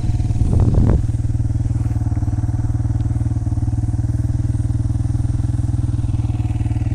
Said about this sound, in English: Nothing like the sound of an XR250R